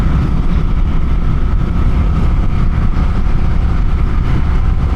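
A Honda Rebel 1100 DCT SE automatic motorcycle with a six-speed gearbox accelerating, its engine a loud, steady, low rumbling roar mixed with wind noise throughout.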